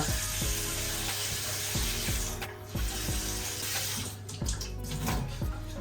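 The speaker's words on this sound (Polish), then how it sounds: "Nalewamy sobie wody do garnka." Water pours steadily into a pot from a tap, a continuous close rushing with a few soft clunks and no speech.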